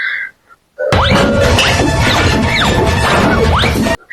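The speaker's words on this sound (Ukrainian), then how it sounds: "Там два двох чи трьохметрових троля просто виламують двері, а вони не виламуються." Two or three-metre trolls repeatedly bash at a sturdy door in a Winx Club cartoon, heavy crashing thuds and splintery impacts filling about three seconds continuously, loud and close, with squeaky sweeps over the din and no talk.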